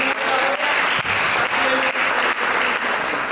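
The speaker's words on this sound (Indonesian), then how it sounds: "Kita berikan tepuk tangan yang" A church congregation claps for several seconds, steady dense applause with a few brief dips in intensity.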